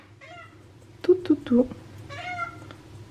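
A cat on a diet meows and complains in a few drawn-out, wavering calls at close range, while someone speaks briefly between them in a kitchen.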